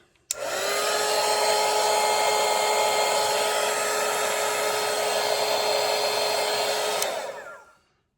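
A hair dryer runs steadily for about seven seconds to dry a watercolour landscape painting, a loud, close, even whir that starts abruptly and winds down at the end.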